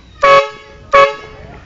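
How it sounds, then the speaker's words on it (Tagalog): Two loud, close blasts from a truck-style horn fitted to a small vehicle running off a small battery, each honk short and punchy, separated by a brief pause. "Tapos ito naman yung track horn."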